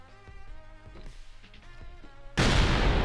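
A video game explosion bursts in abruptly near the end, a loud broadband blast cutting over quieter game music and effects.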